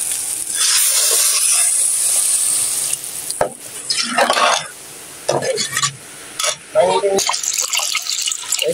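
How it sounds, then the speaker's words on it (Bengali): Water poured into a cooking pot holding rice and milk, a steady watery rush with stirring and sizzle-like noise that stops partway, then scraping stirs, with speech at times. "পানি দিয়ে দিই।"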